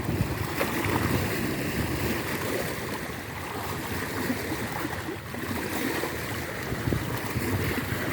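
Ocean waves wash in a steady, rumbling roar, with surf and wind blended into a continuous low wash at moderate loudness.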